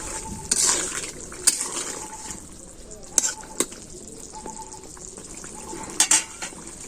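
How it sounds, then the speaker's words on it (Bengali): Fish being stirred into curry in a pot in a village kitchen, with scattered metallic scrapes and clinks of a utensil against the pot over a soft sizzle, birds faint in the background. "মাছ দিয়ে ভালোভাবে একটু নেড়ে নিতেছি"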